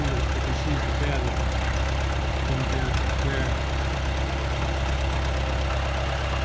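A farm tractor idles steadily, a continuous low engine chug with a slight knock running loud and unbroken, while someone speaks briefly over it.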